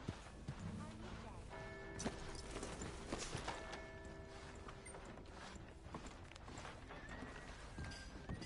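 Horse hooves clip-clop in Red Dead Redemption 2 amid game music and ambient effects, the steady hoof beats moderately close and somewhat quiet, with voices talking over the scene.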